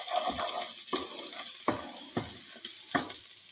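Onions sautéing in a pan for içli köfte, a steady close sizzle under irregular stirring scrapes, with five or so sharper knocks of a spoon against the pan spread across the stretch, and no talk.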